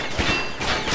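Shotgun fire in the video game Combat Arms, played shotguns-only in Death Room: a rapid, loud burst of blasts that blur together in dense succession.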